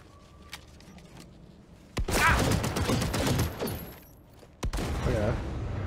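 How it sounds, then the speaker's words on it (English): Shotgun fire from a Cyberpunk video game: a sharp blast followed by a dense burst of gunfire and clatter, a brief pause, then another loud shot with more rattling noise. "It's a shotgun."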